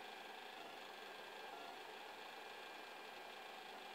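A 3D printer with a syringe extruder prints room-temperature dough, giving a steady, faint mechanical hum with fine rhythmic motor buzzing, alone and unchanging throughout.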